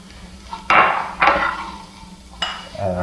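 A spoon stirs a pot of vegan mushroom cream stroganoff while ingredients go in. Several scraping, clattering strokes of utensil against cookware come close and fairly loud, with brief pauses between them.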